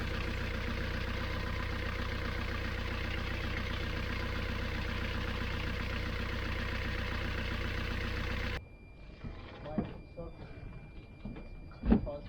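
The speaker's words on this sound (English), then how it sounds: "we left the motor running for a while to check on all the systems" Boat motor idling steadily after engine repairs, a continuous droning hum that runs for about eight seconds and then cuts off, leaving quieter background noise with a few knocks and faint voices.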